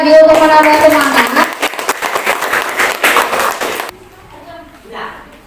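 Applause from an audience at a school farewell ceremony for sixth graders, loud clapping mixed with voices and tones at first, then breaking off abruptly into a quieter room with faint talk.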